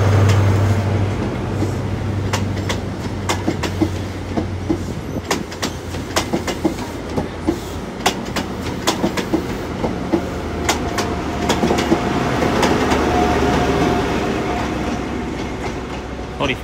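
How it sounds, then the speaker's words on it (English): A Great Western Railway passenger train bound for Penzance pulls out of Exeter St Davids station on a Saturday evening, its engine rumbling steadily with clicking wheels over rail joints and a rising hum as it moves away. "got the Great Western Railway service to Penzance now leaving"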